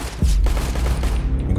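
Rapid gunfire from a Counter-Strike: Global Offensive match, a loud, dense burst of shots running straight through the short moment with no talk over it.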